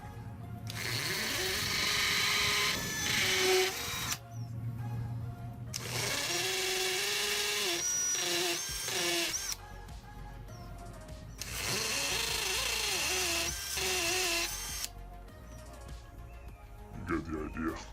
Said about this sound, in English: I'm using a hammer drill, so it makes it a lot easier to go into concrete.